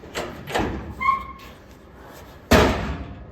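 Car doors are opened and closed, giving several dull thumps and clunks, with one sharp, loud slam near the end.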